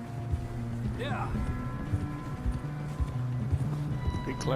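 Horse hooves clip-clop at a steady walking rhythm in the Western video game Red Dead Redemption, with a brief whinny early on and a voice talking over the hoofbeats.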